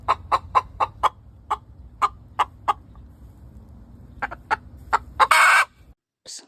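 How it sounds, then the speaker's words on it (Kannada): A hen clucks in a run of short, sharp, evenly spaced calls, close and clear, with a brief pause midway and a louder burst near the end over a low background hum. "ದ ಸೌಂಡ್ ಆಫ್ ದ ಹೆನ್ ಕ್ಲಕ್ಸ್ ಅಂತ ಕರಿತೀವಿ."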